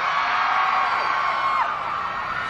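Fans screaming and cheering at a debut showcase, a sustained high-pitched wall of shrieks and crowd noise that stays steady and loud throughout.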